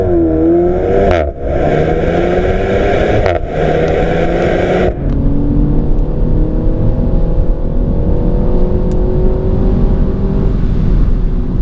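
Renault Mégane 4 RS at full throttle, its engine roaring loud and close as the pitch climbs through rising sweeps, with brief dips at gear changes before a sustained high drone.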